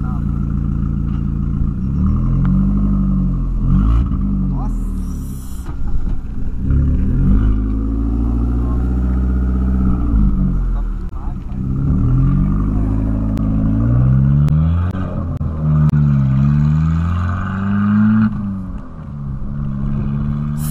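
A Volkswagen Polo's engine idles with a loud, lumpy rumble and is revved repeatedly, rising and falling in waves while someone talks now and then over it.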